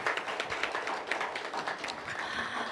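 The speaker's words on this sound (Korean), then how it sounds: "이선미 정책연구실장님께 다시 한번 뜨거운 박수 부탁드립니다" Applause from a seminar audience for a policy research director after her presentation at a public policy forum on support for residents of non-residential buildings, a steady dense patter of many hands clapping throughout.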